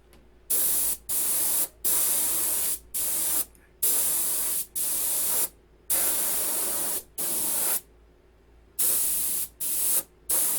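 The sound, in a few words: airbrush spraying green paint on a P-51 model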